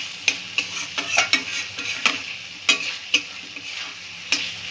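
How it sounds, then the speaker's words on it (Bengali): Potato pieces sautéing in a pan over a medium flame for a Bengali veg chhana bora dalna, with a steady sizzle and repeated sharp clicks of a spatula stirring against the pan, nearby and without voices. "আলুগুলো একটু কষে নেব"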